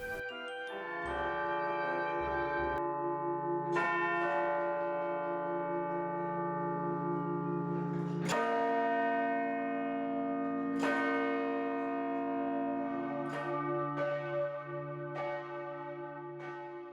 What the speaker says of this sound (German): Hier steht, dass die Glocke im Jahre 1258 gegossen wurde.